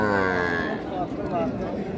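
A cow moos loudly and close at the Ambari cattle market, one long drawn-out low call that fades, with faint market noise behind.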